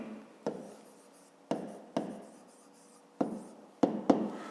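A pen writes in a notebook during a fifth-grade maths exercise, with soft scratching strokes and several sharp taps as the pen meets the page, close and quiet.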